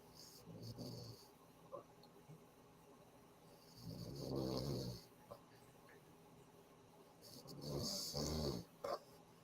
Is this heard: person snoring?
yes